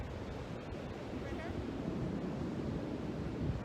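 Ocean surf heard during an outdoor yoga session, a soft continuous wash of waves and wind noise with faint voice traces in the background.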